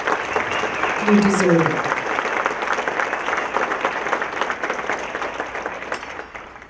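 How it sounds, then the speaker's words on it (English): An audience at a business appreciation breakfast applauds North Glen businesses, a sustained round of clapping that gradually fades, with a voice speaking briefly over it. "Let's give all of our North Glen businesses a big round of applause."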